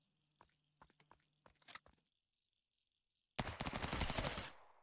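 Machine gun fire from the 2D action game HuntDown: a few sparse, quieter shots and clicks, then after a short silence a loud, rapid continuous burst of automatic fire, close and harsh.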